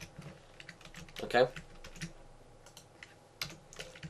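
A computer keyboard clicks as Java code for a Minecraft Forge mod is typed, a short cluster of keystrokes with a brief spoken word over it, then scattered lighter taps.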